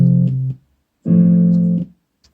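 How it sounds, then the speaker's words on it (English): A 3D printed Arduino touch piano sounds two separate synthetic electronic notes, each held about half a second to a second, clean and loud with silence between them. "the computer will then detect and then generate a sound like you would if you pressed a key on the piano"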